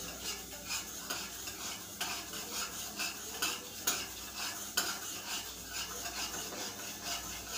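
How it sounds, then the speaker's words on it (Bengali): Moong dal being stirred and dry-roasted in a pan until lightly reddened, a close, repeated scraping and rustling of grains under a spoon with rhythmic strokes, no talking. "মুগ ডালটা ভালো করে একটু ভেজে নেব"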